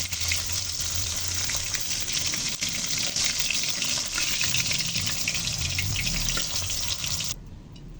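Katla fish fries in hot oil, a loud, continuous hissing sizzle that holds steady and then drops off abruptly near the end, heard alone and close.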